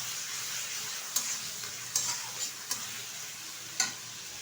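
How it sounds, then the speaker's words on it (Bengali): Marinated prawns fry in a pan with a steady close sizzle, broken by a few sharp scraping clicks of a spatula stirring them. "1 মিনিট মতো একটু নেড়ে চেড়ে নেব।"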